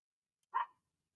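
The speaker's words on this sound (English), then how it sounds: "Oh, George is barking outside" A single short dog bark from outside, fairly faint and distant, standing alone in silence.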